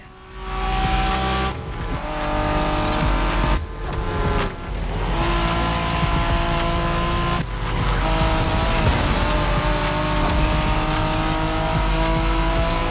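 Night-time Japanese-style street racing in a driving game: loud, sustained engine roar from race cars with revving, gear changes and tire squeal, continuous and close throughout, no talking.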